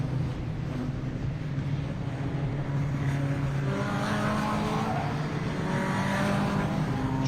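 Race cars at Zandvoort run on Toyo tyres during warm-up, engines droning steadily at moderate distance with rising and falling pitch as they move around the track.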